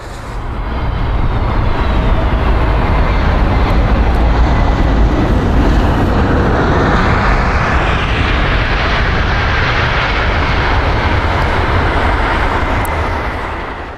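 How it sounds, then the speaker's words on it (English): An Airbus A321neo jet roars loudly and steadily throughout on takeoff from London Heathrow, a broad rumbling engine wash with a rising whine as it powers away. "This Airbus A321neo departed from London Heathrow"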